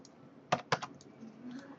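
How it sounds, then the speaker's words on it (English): Two sharp computer keyboard key presses land close together, followed by a couple of softer clicks, on a quiet desk with light background noise. "I'm going to hit F4 on my keyboard"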